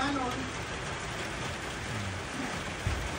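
Rain falling on an open field, a steady broadband hiss of drops that stays even throughout at close range, with a brief low thump near the end.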